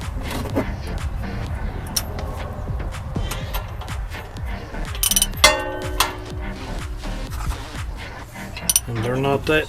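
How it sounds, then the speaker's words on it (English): A 24mm socket on a ratchet loosens nuts on a Pioneer 520 engine during a valve adjustment. Close metallic clicking, ratcheting and clinking of tools come in irregular bursts, with some low background noise. "It takes a 24mm socket to get those off."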